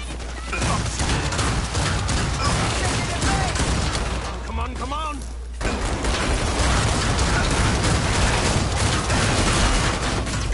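Grenade blast and gunfire in Killing Floor 2: a loud, dense stream of shots and crashing impacts runs the whole time, dips briefly mid-way, then surges again, with players talking over it.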